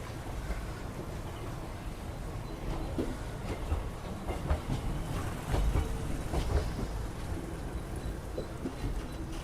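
An express train hauled by an electric locomotive runs after leaving Gudur Junction, heard from inside as a steady rumble with rhythmic clickety-clack of wheels over rail joints, continuous and moderately loud.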